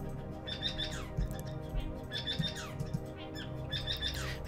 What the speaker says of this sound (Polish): ja mam wrażenie, że im bardziej tego ptaka uciszam, tym on jest głośniejszy. I tym częściej tak śpiewa.